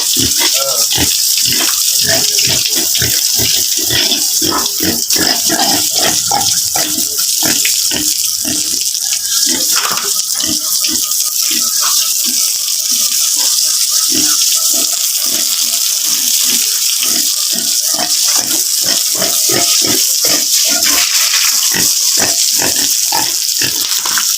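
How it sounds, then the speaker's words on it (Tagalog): Water splashes and sprays continuously while a pig being washed grunts and squeals repeatedly, close and loud, with occasional voices mixed in. "Giligo na nini mong baboy, Je?"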